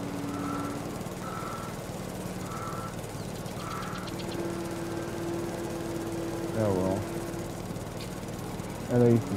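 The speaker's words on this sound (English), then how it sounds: "Yeah, see, even a lawnmower is not able to get none of it." A lawn mower engine runs steadily on a farm as a faint, even hum at some distance, with short bird-like calls breaking in now and then.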